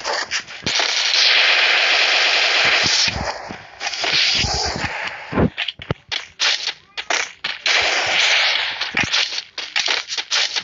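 Rapid bursts of automatic gunfire in a Free Fire Lone Wolf 2v2 match, dense volleys separated by short gaps, loud and close with sharp cracking edges.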